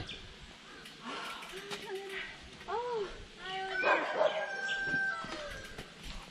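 Dogs barking in a mountain village on Guryongsan near Daecheong Dam, a few separate barks at mid distance mixed with birdsong and a rooster, under people talking.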